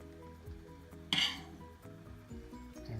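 A spoon scrapes and clinks against a pan while scooping out a Thai fakeaway dish with chopped tomato, one sharp metallic clatter standing out among softer scraping taps, close up and fairly quiet.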